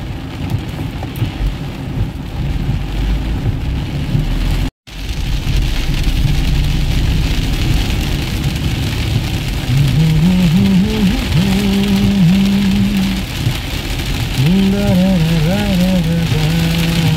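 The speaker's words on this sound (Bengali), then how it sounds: "না না বৃষ্টির গতি মোটামুটি একই আছে।" Steady rain pours down continuously in Kolkata with a low rumbling wash, while a higher wavering tone drifts in and out over the final seconds.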